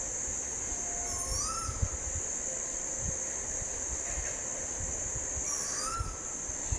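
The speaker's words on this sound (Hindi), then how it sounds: "या एक कोयल की आवाज़।" A koel calls twice, each a rising, whistling note a few seconds apart, over a steady high insect-like hiss and faint background rumble.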